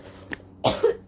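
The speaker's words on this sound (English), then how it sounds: "I cough a lot." Two coughs at close range, a short faint one followed by a louder, harsher cough with a rough throaty tail.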